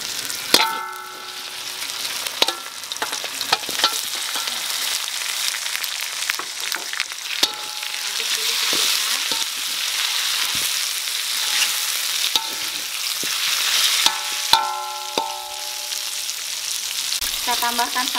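Raw chicken pieces hit a hot pan and fry with a loud, steady sizzle for soup in coconut milk, broken by frequent sharp clinks and scrapes of a utensil stirring against the pan.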